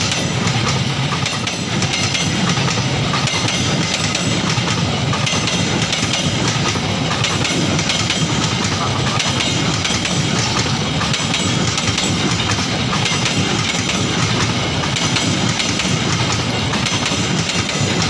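Train moving through Pasar Senen station in Jakarta at night, a steady loud rumble and rail noise running the whole time with no talk.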